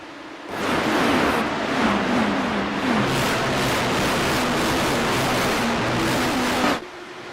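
A pack of IndyCar race cars in a racing video game rumbles away from the start at Mid-Ohio, a steady broad engine roar with shifting whining pitches as the field climbs through the keyhole together.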